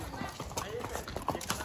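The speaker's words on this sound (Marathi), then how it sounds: "बघा माझा घोडा आलेला आहे एकदम वाईट" Horse hooves clip-clop at a hill viewpoint while people talk over the brisk, uneven thuds.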